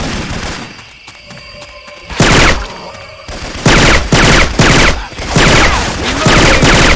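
Syphon Filter weapon effects swapped into the Left 4 Dead 2 video game: loud close bursts of rapid gunfire in several volleys, broken by short quieter gaps.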